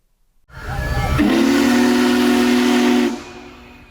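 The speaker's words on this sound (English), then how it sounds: "the world's largest steam locomotive, UP 4014 Big Boy" Union Pacific 4014 Big Boy steam locomotive sounds its whistle at the Chardon Road railroad crossing north of Euclid Avenue: one loud, sustained blast of about two and a half seconds, with hiss before and after.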